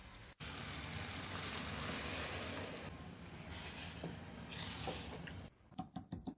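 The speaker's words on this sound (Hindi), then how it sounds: "हम 1 गिलास पानी का मजीद ऐड करेंगे ताकि दाल अच्छे से गल जाए।" A glass of water poured into a pot of soaked, partly cooked lentils for Punjabi makhan dal, a loud continuous rushing splash for several seconds before it tapers into scattered clinks and drips.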